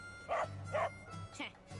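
Dog barks in the video game Rebirth, three short yelping barks spaced about half a second apart over a low, steady game background hum.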